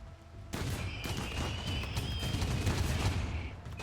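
Mini turrets in RimWorld, a sci-fi colony game, fire continuously against a large Scyther attack, a dense crackling barrage of rapid shots that sustains at steady loudness with no talk over it.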